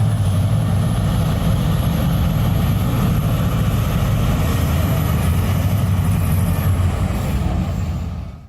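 Boeing T-7A Red Hawk trainer airplane, with a loud, steady engine roar close by that holds and then fades away near the end.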